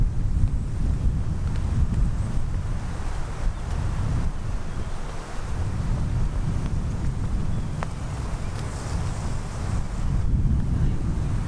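Wind buffeting a microphone outdoors on a foot golf course, a loud continuous low rumble with gusty fluctuations throughout and no clear talk.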